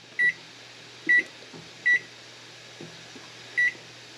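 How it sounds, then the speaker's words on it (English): A kitchen stove timer gives short electronic beeps as it is set, four clear evenly spaced chirps over a quiet room hum, close by with no talk. "I'm going to set my timer on my stove for 10 minutes"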